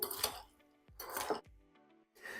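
Tomato salad being tossed in a dish, with a few scraping and clinking bursts separated by short pauses, fairly close and moderately quiet, with no talking.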